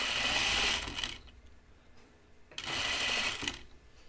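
A sewing machine stitches a 1940s New England style dress in two loud, close bursts of fast whirring, with a quieter pause between them that carries faint mechanical clicks.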